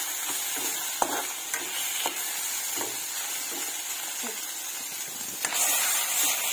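Food sizzles steadily in hot oil while a utensil scrapes and clicks against the pan every second or so, close and continuous.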